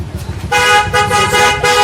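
A loud, close Eicher truck horn honks in two or three blasts over a low engine rumble.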